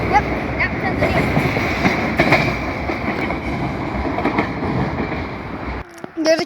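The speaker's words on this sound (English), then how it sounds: "Southern train coming right now." A Southern train rumbling past beneath a bridge, a loud continuous roar of wheels and carriages with clattering rail noise, which cuts off abruptly near the end, followed by brief faint sounds.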